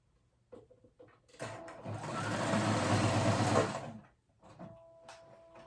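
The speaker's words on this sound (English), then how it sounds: "use a zigzag stitch on my sewing machine and go right over it" A sewing machine runs a zigzag stitch steadily for a few seconds with a fast mechanical whir, starting and stopping abruptly amid quieter handling noises.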